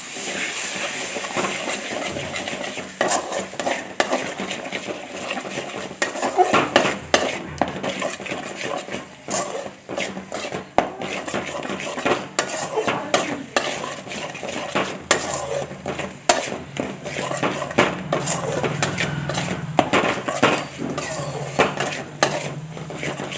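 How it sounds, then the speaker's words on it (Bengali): Spice paste cooked with tomato for a Bengali egg curry is stirred in a pan, with repeated scraping and clanking of a utensil against metal over a low sizzle. "বন্ধুরা মশলা কষা হয়ে গেছে।"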